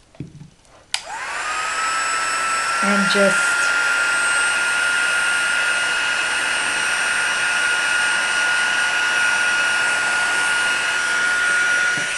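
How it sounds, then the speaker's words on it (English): A heat gun roars to life after a click and blows a steady, loud whine of hot air without stopping; a voice speaks briefly at the start. "Get my heat gun. Sorry about the noise"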